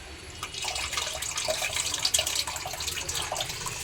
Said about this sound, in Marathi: आपण आता जो भाजून घेतला जवला आहे ते पाण्यामध्ये पुन्हा आता धुवून घेतोय आणि स्वच्छ करतोय जरासं